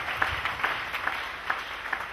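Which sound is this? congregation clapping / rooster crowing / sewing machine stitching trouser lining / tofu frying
congregation clapping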